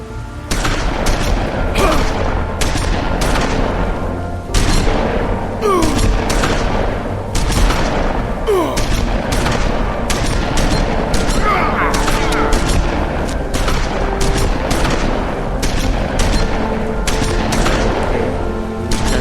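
Shotgun blasts in The Wolf Among Us boom out one after another at irregular intervals across a long stretch of loud, continuous game action, with a voice briefly heard among the shots.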